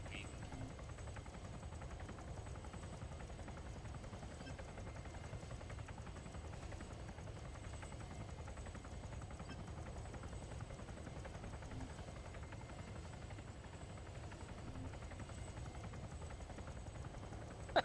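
A gunship helicopter in a video game flies with a steady, continuous rotor and engine drone that holds at an even loudness throughout, while voices talk over it.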